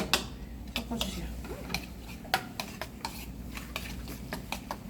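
A spoon stirs Thousand Island dressing ingredients, including chopped bell pepper and egg, in a bowl, giving close, irregular clinks and scrapes against the bowl over a quiet kitchen background.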